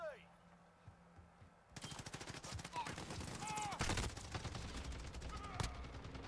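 Hip-fired automatic gunfire in Call of Duty Modern Warfare multiplayer, a sustained rapid burst that starts abruptly after a quiet moment and rattles loudly for several seconds, with faint chatter underneath.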